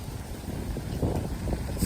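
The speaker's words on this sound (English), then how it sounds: "it's getting super windy out here" Strong wind buffets the microphone outdoors, a loud, continuous low rumble that swells and gusts without letup, with no voices.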